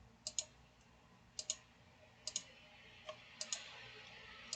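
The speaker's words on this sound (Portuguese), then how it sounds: "Então, eu vou clicar para adicionar linhas." Computer mouse clicks adding table rows in software, about six sharp, quiet clicks spaced unevenly over a faint steady background hum.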